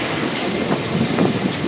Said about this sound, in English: And windy over here.